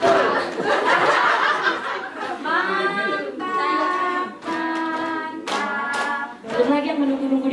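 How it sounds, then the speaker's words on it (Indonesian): A group at a community health center claps out a rhythmic tepuk mantul pattern, the hand claps mixed with chanting voices and bursts of laughter throughout. "Sekarang saya mau ngajarkan tepuk mantul."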